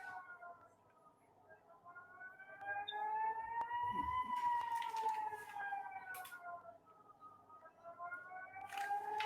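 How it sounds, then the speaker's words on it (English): Air raid warning sirens in Israel wail in a slow rising and falling tone, distant and steady, with a brief low thump and faint background voices. "I'm hearing the sirens."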